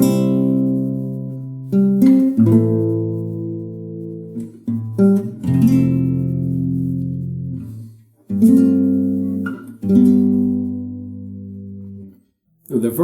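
Guitar playing the intro of a 1980 song, a sequence of picked chords with a moving bass line, close and clear, each chord ringing out before the next change.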